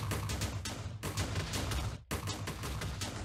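An explosion power from a My Hero Academia mod in Minecraft sets off a rapid run of loud, crackling blasts in the video game, with two brief gaps of near silence breaking the bursts.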